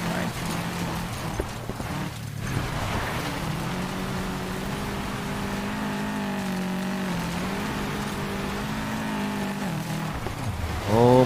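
A car engine in Need For Speed Payback on a dirt road, its droning note wavering up and down as the revs rise and fall over about eleven seconds, ending with a sharp rev at the close.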